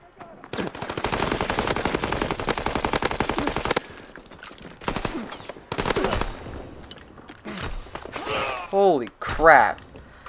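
Loud, sustained automatic gunfire in Call of Duty WWII, a long close burst of about three seconds followed by scattered shorter bursts and single shots, with a voice shouting briefly near the end.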